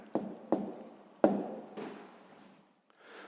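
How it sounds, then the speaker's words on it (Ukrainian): A pen scratches across paper in a few short strokes, with taps and a trailing scrawl, close and fairly quiet, during a sixth-grade math lesson on solving equations. "Записуємо відповідь."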